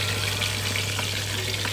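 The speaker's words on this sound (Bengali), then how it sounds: "এই যে এখানে এখন মাছ ভাজা হচ্ছে" Fish frying in a pan in a home kitchen gives a loud, dense, continuous sizzle with a steady low hum underneath.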